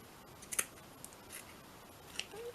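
Scissors snipping through net in a quiet room, a few short crisp cuts spaced out over a couple of seconds.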